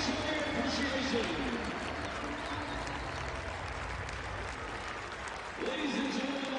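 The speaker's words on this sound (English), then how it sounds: "join us in offering these fine student athletes a very big round of applause" Crowd in a stadium applauding student athletes at a Penn State versus Iowa game, a steady broad wash of clapping and cheering from a large audience with a public-address voice echoing over it.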